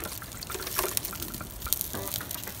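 A glass of white wine poured over a lamb roast on an outdoor grill in snowy weather, giving a soft brief trickle and splash against steady background noise.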